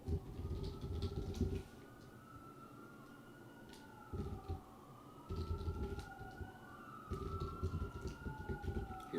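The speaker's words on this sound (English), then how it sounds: "Hear the sirens? That's the sound of New York." Emergency vehicle sirens wail along a New York street, several rising and falling tones overlapping at a distance, with a low traffic rumble swelling and fading beneath them.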